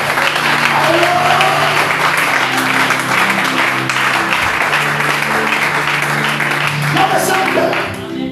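A church congregation claps together in steady, sustained applause, dense and close, with voices and an underlying hum of music mixed in throughout, easing off slightly at the end.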